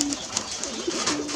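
Deshi Giribaj pigeons at a farm give a low, throaty coo that fades in and out over a soft bed of background noise, with a couple of faint higher sounds.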